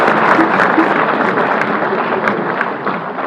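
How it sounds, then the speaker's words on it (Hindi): Loud applause at a Hindi kavi sammelan honours the poet Govind, a thick, continuous roar of many hands clapping at once, strong and even for its few seconds before easing slightly. "जरा जोरदार तालियां गोविंद के सम्मान में एक बार।"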